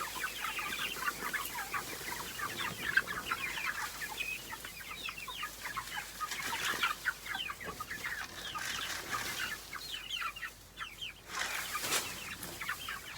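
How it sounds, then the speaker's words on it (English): Chickens cluck steadily and busily at close range while being fed on the ground at a farm, a dense, continuous chorus of short calls with no talking. "Come on, chickens."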